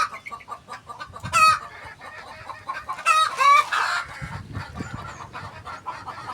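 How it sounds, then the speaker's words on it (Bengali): Native chickens with Ranikhet disease, recovering, cluck inside a net enclosure, with two loud bursts of squawking calls over quieter clucks and rustling close by. "ওই জালের ভিতরে যে কয়েকটা মুরগি বন্দি আছে"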